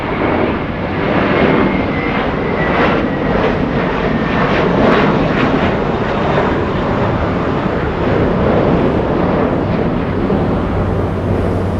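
Air New Zealand airliner taxiing off the runway at Los Angeles International Airport, its jet engines a loud, steady roar with broadband rumble and no speech.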